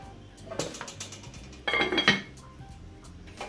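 A metal pot lid is set onto a pot of coconut milk cooking for Jamaican rice and peas, giving a few clinks and clatters of metal on metal, with a louder rattling settle midway, close by in a quiet kitchen.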